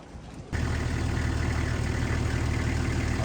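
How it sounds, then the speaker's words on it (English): An open-air safari vehicle at Victoria Falls in Zimbabwe starts up, then its engine settles into a steady close idle, a continuous low rumble with no voices. "we're taking the open air vehicle to the falls"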